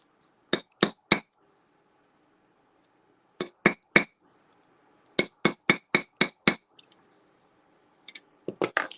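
A chasing hammer strikes metal during repoussé surface work, giving crisp, ringing metallic taps in quick bursts of three to seven, separated by short pauses, close and alone with no talk.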